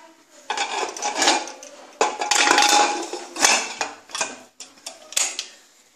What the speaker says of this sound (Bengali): একটু ঢাকা দিয়ে রাখবো।